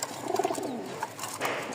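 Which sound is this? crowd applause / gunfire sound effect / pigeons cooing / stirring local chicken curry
pigeons cooing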